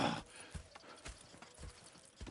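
Steady clip-clop of horse hooves on a hard surface in a video game, an even walking rhythm over faint background noise.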